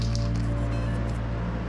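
A short, close hiss of spray paint from an aerosol can, steady for under two seconds over a low background hum.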